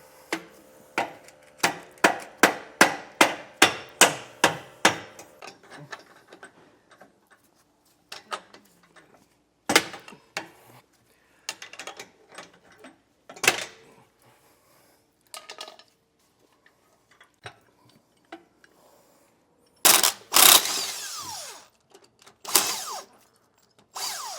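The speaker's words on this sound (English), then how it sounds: "I'm going to give them a little persuasion with the hammer" A rapid series of sharp metallic hammer strikes on seized bolts while fitting a leaf spring suspension kit, then slower, scattered blows with pauses, ending in a few loud hits close by.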